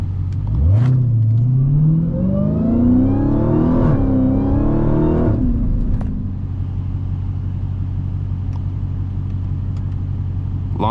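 A Dodge Hellcat launches hard in second gear, its engine climbing in a loud, close, rising roar with a gear-change dip, then cutting off around midway to a low idle rumble; nobody speaks.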